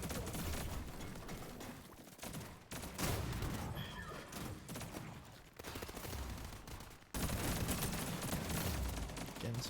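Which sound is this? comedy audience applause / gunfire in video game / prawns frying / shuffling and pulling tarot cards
gunfire in video game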